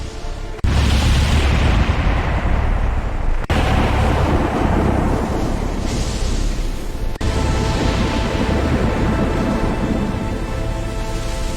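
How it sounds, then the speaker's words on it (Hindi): A violent thunderstorm with lightning over a forest: loud, continuous roaring rain and rumbling thunder with sharp breaks, dense and close with no voices. "अचानक आसमान में तेज बिजली चमकी। काले बादलों ने पूरे जंगल को घेर लिया। देखते ही देखते भयानक तूफान उठ खड़ा हुआ।"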